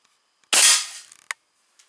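A Weihrauch HW 80 .22 air rifle fires one sharp, loud crack up close, followed by a short fading ring and a faint later tick.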